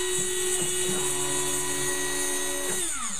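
A hobby CNC machine spins while threading with a steady high whine, its pitch holding and then dropping near the end, close and continuous.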